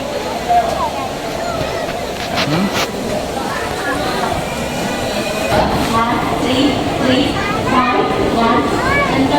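A passenger train pulling out of platform three at Palakkad Junction in Kerala, a continuous rolling rumble with squealing wheels and busy station voices, children among them, talking over it.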